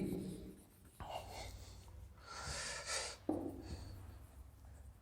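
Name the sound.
writing on a board during a maths lesson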